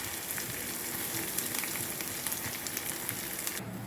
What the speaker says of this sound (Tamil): ஸோ இப்போ வந்து தேங்காவும் அதுலேயே வணக்கிடலாம்